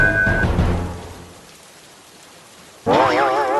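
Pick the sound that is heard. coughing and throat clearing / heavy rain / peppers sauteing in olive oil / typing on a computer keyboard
heavy rain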